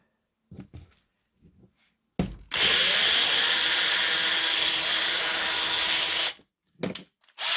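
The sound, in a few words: drill drilling apart toy car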